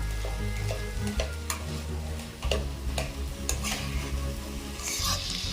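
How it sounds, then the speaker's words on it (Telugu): Tomatoes are mashed into chicken curry frying in a pan, giving a close, steady sizzle with repeated scraping and tapping strokes of the utensil against the pan. "చికెన్లో మంచిగా స్మాష్ చేసుకోవాలి ఇలా"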